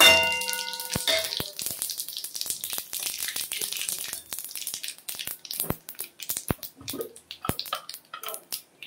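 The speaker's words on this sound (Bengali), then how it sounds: "ফোড়নে আমি 1 চামচ জিরে আর তেজপাতা দিয়ে দিলাম" Cumin seeds and bay leaves crackle and sizzle in hot oil, with sharp metallic clinks of a utensil against the pan scattered throughout.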